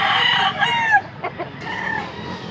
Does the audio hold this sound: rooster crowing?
yes